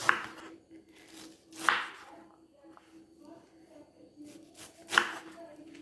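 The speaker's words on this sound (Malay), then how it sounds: "Kemudian buah nenas yang telah kita buang matanya, kita akan potong begini ya" A knife cuts a cored pineapple on a chopping board, giving three sharp, close chops spaced a couple of seconds apart over a low room hum, with no talk.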